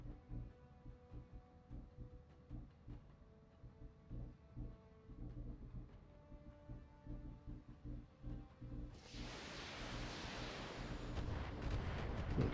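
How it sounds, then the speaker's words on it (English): Missiles launch and hit in the BattleTech mech game: faint low rumbles and thuds build up, then a loud, sustained wash of blast noise erupts near the end. "Okay, more missiles going in."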